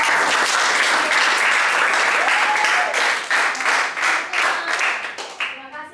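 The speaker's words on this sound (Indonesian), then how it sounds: "Oke, tepuk tangan dulu untuk kelompok." Classroom applause for a student group after their presentation, dense clapping that thins and tapers into scattered claps, close and alone.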